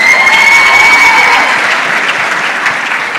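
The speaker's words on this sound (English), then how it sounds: "Another round of applause for the team." An audience applauds a team at an awards event, a loud, steady wash of many hands clapping together for the whole stretch and fading slightly toward the end.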